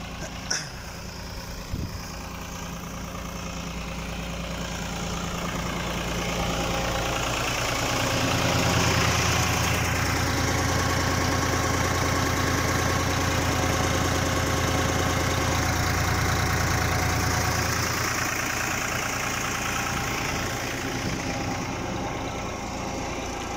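A heavy New Holland tractor engine drives a 40 kVA PTO generator, running steadily at close range, rumbling and droning continuously, with its pitch dipping and rising slightly as the load changes.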